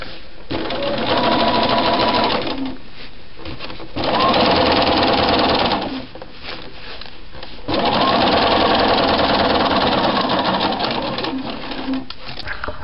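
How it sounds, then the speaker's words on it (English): A sewing machine stitches a collar stand in rapid, loud, close mechanical runs, three bursts of a few seconds each separated by short pauses as the fabric is adjusted, with no talk over the stitching. "I've sewn it on, and now you can see from the back what it looks like when it's been stitched"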